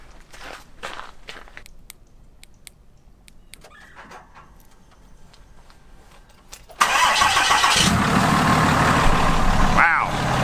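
A large Cummins diesel pickup truck engine cranks and catches, then settles into a loud, steady rumbling idle after a quieter stretch of scattered clicks and footsteps.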